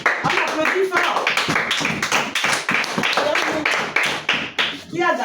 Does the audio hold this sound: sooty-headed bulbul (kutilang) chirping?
no